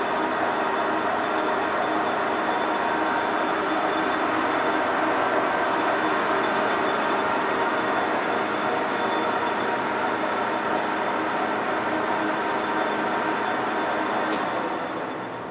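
Century heavy-duty sliding gap bed lathe in mint condition running at 277 RPM, a steady, even mechanical whir and hum held close throughout, with no talk.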